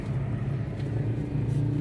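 Steady traffic of motorbikes and cars on a busy coastal highway during the holiday homecoming rush, a continuous moderate low rumble of passing engines with no clear gaps.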